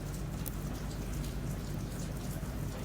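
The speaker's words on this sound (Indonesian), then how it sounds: "Aku nggak tahu hujannya sampai jam berapa." Steady rain falls outside, a dense continuous patter with a low rumbling wash, even and moderately loud throughout.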